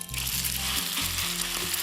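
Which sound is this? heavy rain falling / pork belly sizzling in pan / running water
pork belly sizzling in pan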